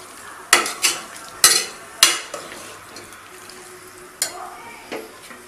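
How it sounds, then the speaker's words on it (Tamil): Mutton sautéing in hot oil in a pan: a soft continuous sizzle broken by several sharp metallic clanks and scrapes of a spoon stirring, spaced irregularly and close up. "மட்டனை இந்த எண்ணெயில் வந்து வதக்குங்க"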